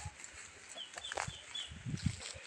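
Palawan native chickens give a few soft, scattered clucks and low throaty calls close by at a farm, faint over a quiet outdoor background.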